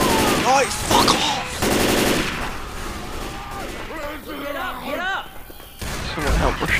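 Gunfire in the game Left 4 Dead 2, loud bursts of rapid shots and booms mixed with a busy game soundscape, with people talking over it throughout.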